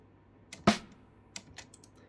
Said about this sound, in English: Let's take a listen to the snare.